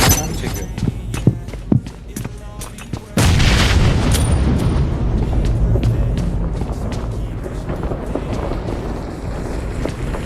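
A grenade goes off in PUBG Mobile: a few sharp clicks first, then one sudden, loud close blast that rolls into a long, dense rumble lasting to the end.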